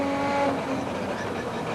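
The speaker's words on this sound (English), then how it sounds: "that sounds very rough indeed as Win Percy graunches the gear down to 3rd" A Nissan Skyline R31 GTS-R engine roars steadily during a 1988 British Touring Car Championship race as the driver drops roughly down to third gear, the note rough and loud throughout.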